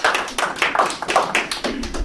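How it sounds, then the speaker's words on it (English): A small live audience gives a brief round of light clapping at a talk, a scattering of hand claps close by with no voices over it. "Do you clap a little bit?"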